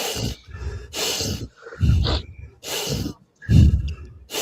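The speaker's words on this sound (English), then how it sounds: "I'm just sucking back some phlegm." Loud, close snorts as someone sucks back phlegm, four heavy rasping bursts in a steady rhythm with brief silent gaps between them.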